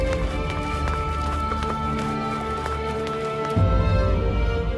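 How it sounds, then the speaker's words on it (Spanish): Horses ridden by men inside a palace, hooves approaching in a steady galloping run with a dense low rumble, continuous and fairly loud throughout, growing heavier near the end. "Son sonidos de hombres a caballo, dentro del palacio, acercándose."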